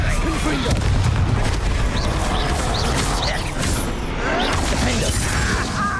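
Repeated blasting-spell explosions in Hogwarts Legacy, booming and rumbling amid dense, continuous combat noise, loud and close, while a voice shouts spell names.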